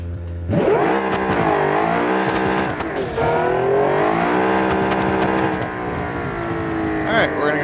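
A 944 Turbo S accelerating in the racing game Automation: a loud, close engine revs up through several rising gear pulls with brief dips at each shift, droning steadily for the whole run.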